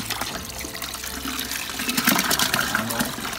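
Ice water poured during homebrew beer making to cool the wort, a steady broadband splashing gush that swells louder toward the end, close and continuous with no talk.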